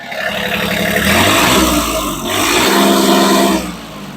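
A Japanese mini tractor engine, recorded with the microphone held close, runs and revs loudly, with two rising surges of engine roar separated by a brief dip.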